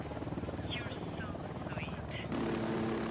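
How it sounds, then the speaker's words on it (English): A helicopter in the video game Ghost Recon Wildlands whirs with a steady, pulsing rotor chop, loud and close, while someone talks over it. "your helicopter does get dirty with all this flying around"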